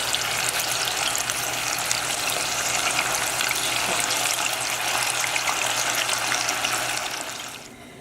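Tofu frying in a pan until crispy sizzles in a dense, continuous hiss, loud and close, holding steady before easing slightly at the end.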